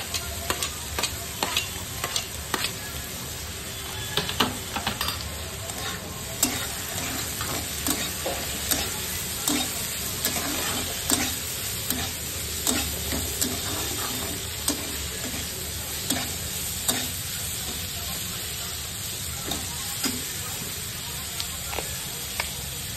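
Carrots, peas and chopped green chili fry in a kadai, a steady sizzle broken by frequent scraping clicks of a spatula stirring the vegetables, close and continuous throughout.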